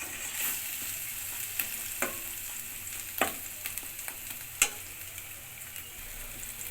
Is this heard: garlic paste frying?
yes